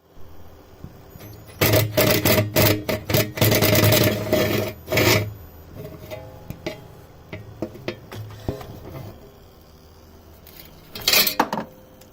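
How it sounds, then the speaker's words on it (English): Metal tools clank and scrape at a car's wheel speed sensor as a bolt is removed, with a dense burst of rattling in the middle, scattered lighter knocks, then a final sharp clatter. "So I got to take that bolt out."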